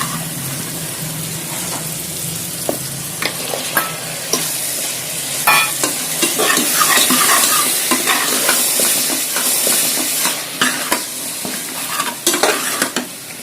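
Vegetables frying with onion and tomato in a pan for South Indian sambar, a loud sizzle broken by repeated sharp scrapes and knocks of a spoon stirring, with no one speaking.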